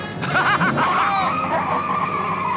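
A stolen car speeds away with tires skidding and squealing, a loud screech riding over a roaring engine that holds steady and close for the whole stretch.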